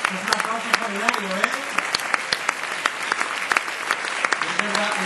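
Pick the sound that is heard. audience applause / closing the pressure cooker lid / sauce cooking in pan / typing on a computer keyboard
audience applause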